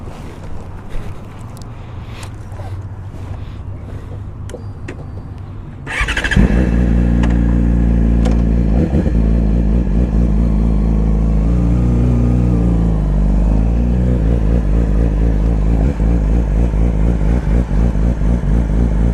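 A 2014 Yamaha R6 sport bike sits quietly at first, then its engine fires up abruptly around six seconds and idles loudly with a steady, throbbing rumble, occasional revs rising and falling, close to the microphone.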